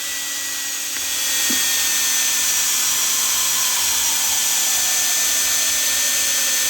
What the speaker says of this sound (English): once the brush is all the way through, we just reverse the drill.